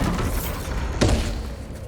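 A Bombarda spell explosion in Hogwarts Legacy lands as one sharp, punchy blast cutting through a steady rumbling background, followed by a brief crackling tail.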